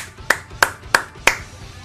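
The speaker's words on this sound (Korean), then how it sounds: "박수 한 번씩 부탁드립니다" A few sharp hand claps in an even, steady rhythm, close and distinct, offered as applause at a Naruto multiplayer game league match event; no talking.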